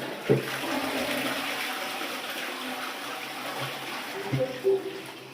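A newly fitted WC toilet flushes with a steady, close rush of running water that lasts throughout, while voices talk nearby.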